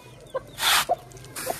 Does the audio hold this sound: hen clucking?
yes